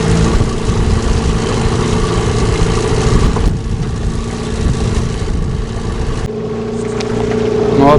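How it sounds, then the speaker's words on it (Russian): A Mikatsu 9.8 outboard boat motor runs loudly and continuously close by, a steady mechanical drone with small shifts in pitch and load partway through. "На горячий с полоборота берет мотор."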